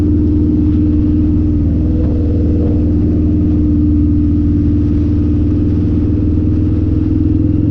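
Harley-Davidson V-Rod motorcycle on a ride, a loud continuous low engine rumble with steady wind buffeting, heard from the rider's position without letup.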